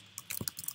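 Fast keystrokes on a computer keyboard, a short burst of about ten close, crisp clicks as an address is typed, with no voices.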